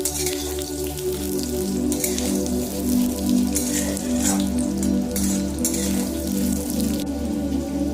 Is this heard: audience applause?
no